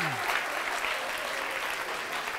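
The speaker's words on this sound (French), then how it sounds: "Je vais vous demander d'applaudir chaleureusement Frédéric Fabry." An audience applauds warmly at the close of a conference talk on weather, a continuous wash of many hands clapping at moderate volume, heard alone.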